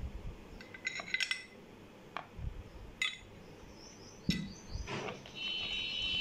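A spoon stirs corn flour into a chicken marinade in a bowl for Lahori chargha, making scattered clinks and scrapes against the bowl, quiet and close with no talking.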